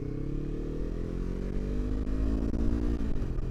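A Yamaha R3 motorcycle engine hums steadily and loudly, its pitch gradually dropping as the bike slows under engine braking, heard up close from the rider's position with wind noise.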